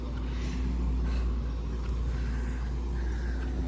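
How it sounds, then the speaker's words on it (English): A petrol tanker truck rumbles steadily with a deep low drone as it passes nearby, constant throughout with no voices. "Excuse the noise. Petrol gas truck over."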